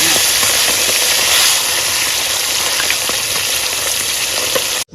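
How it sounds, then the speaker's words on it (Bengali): Fish frying in hot oil in a wok, with a loud, steady sizzle and crackle that runs unbroken for the whole stretch, close by and with no talking over it. "এবার মাছগুলো ভেজে নেবো"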